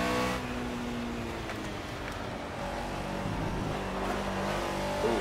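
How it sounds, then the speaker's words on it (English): Race car engine in the Project CARS racing game, running continuously with throttle blips and revving as gears change, loud and steady throughout with no talk over it. "Pretty nasty blipping going on."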